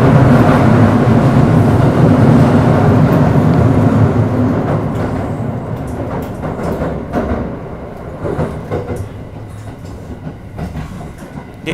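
A limited express train rolls beneath the Tokaido Main Line, loud and close at first with a heavy rumbling roar, then easing to quieter clattering wheel clicks and rail joints as it passes through.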